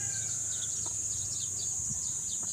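Chickens at a small gamefowl farm give soft, scattered clucks and chirps over a steady high insect-like drone, close and continuous with no talking.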